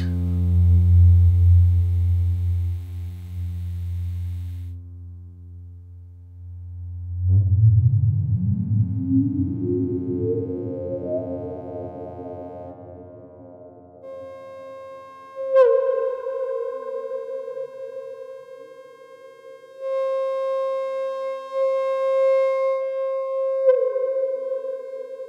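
Oskar Sala's Mixtur-Trautonium run through its formant filters, a low buzzy tone that sweeps upward into a rising resonance, then settles into steady whistling resonant peaks with a brief downward glide near the end, heard alone.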